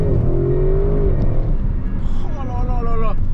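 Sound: Audi RS7 2021 twin-turbo engine accelerating

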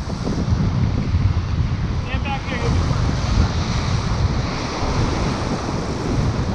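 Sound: ocean waves breaking with wind at the surf

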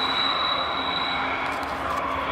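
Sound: train passing by outdoors

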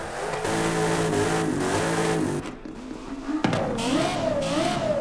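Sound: Toyota Supra with 6.2 engine swap revving in garage, Forza Horizon 5 video game

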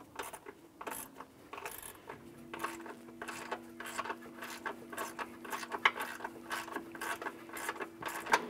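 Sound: tightening bolts on a Honda Civic camshaft position sensor

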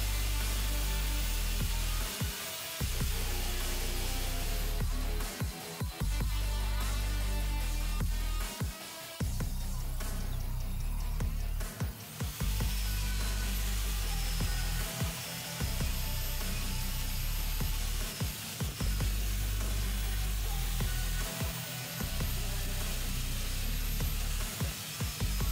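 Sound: angle grinder polishing stainless steel

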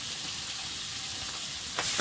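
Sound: hilsa fish frying in a pan

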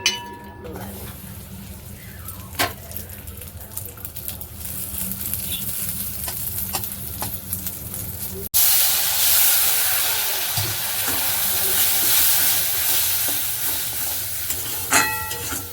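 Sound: frying cardamom in a pan

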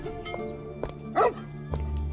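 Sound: dog barking in the video game Van Helsing

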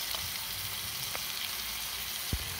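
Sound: onion and tomato frying with spices in pan

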